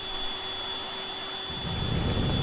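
Steady broadband whoosh of the vacuum tool in the video game Teardown, a constant synthetic suction hum with a thin tonal whine, swelling slightly louder and rougher in the second half, heard alone.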